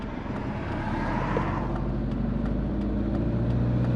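A big-turbo Subaru pulls hard in second gear, its engine a loud, steady, rising drone heard from inside the car with no talking.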